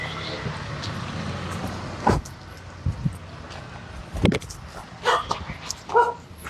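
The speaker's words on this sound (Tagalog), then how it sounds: "Ay, may aso." A dog barks several times at irregular intervals, sharp and fairly close, over a low outdoor background.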